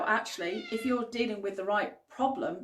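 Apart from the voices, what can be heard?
cat meowing loudly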